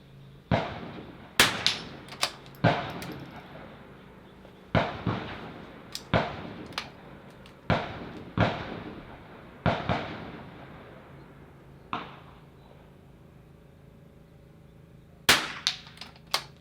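Rifle shots ring out at an NRL22 match, a series of sharp, loud cracks, some in quick pairs and others spaced by pauses of a second or more, each followed by a brief echoing decay.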